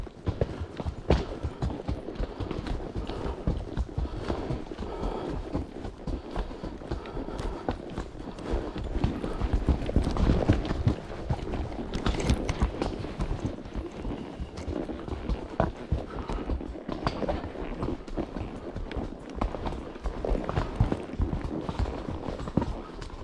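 A horse walks the Snake Den Ridge Trail in the Great Smoky Mountains near Cosby, its hooves clip-clopping in a dense, steady close-up rhythm for over twenty seconds amid rustling tack and trail noise.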